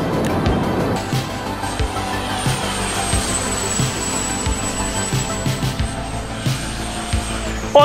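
An airplane performing aerobatic flips, with a loud, steady engine drone and a high whine that holds and slowly rises over several seconds, alone without talk.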